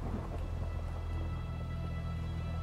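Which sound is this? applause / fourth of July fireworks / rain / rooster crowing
rain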